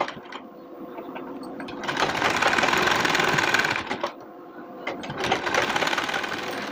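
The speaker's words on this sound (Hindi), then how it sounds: "तो चलिए सिलाई लगा लेते हैं।" Sewing machine stitching a puffed sleeve for a net blouse, its motor whirring in two close, steady bursts of rapid needle chatter, with a short slower pause between them and no voices.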